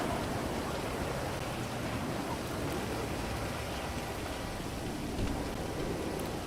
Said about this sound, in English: It's always raining in sunny Los Santos, right?